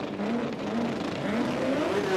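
Drag race car at an Australian sports compact drag racing event, heard as a loud, steady engine roar with a rising tone held for the whole stretch, close and continuous.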